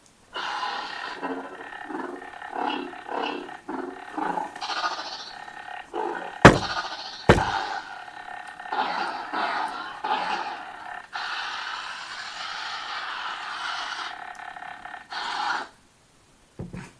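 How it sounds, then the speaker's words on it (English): Series of lightsaber effects from the Kyber sound font on FX-SabersOS: humming swings, whooshes and crackling blasts, with two sharp clashes midway, ending in a power-down and silence. "In terms of sound fonts, I've got, well, that was Kyber from Lord Blako"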